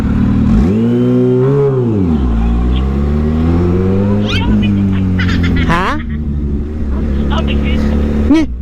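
A big bike motorcycle carrying a passenger as a habal-habal ride revs hard and accelerates, the engine note climbing and shifting loudly up close while a rider and passenger talk over it.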